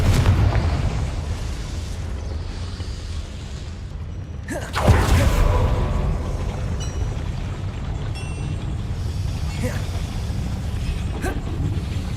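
A Confringo fire spell goes off in the video game Hogwarts Legacy with a single sudden loud blast partway through, followed by a sustained rumbling roar over a steady background hum.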